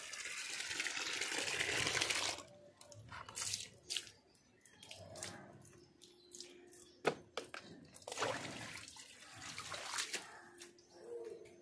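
Water splashes and gushes across a rooftop floor as it is poured out for washing, a strong rush at first, then scattered drips and splashes, fairly faint overall.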